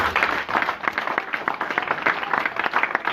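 A church congregation claps together in a steady, lively burst of applause, many hands beating at a brisk, even rhythm close by, with no talk over it.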